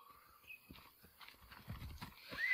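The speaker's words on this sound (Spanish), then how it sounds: "Un caballo mágico porque aparece de la nada." Hooves of a horse in Assassin's Creed Odyssey clatter in a quick, uneven rhythm, fairly quiet and close, with a brief whinny-like tone mixed in.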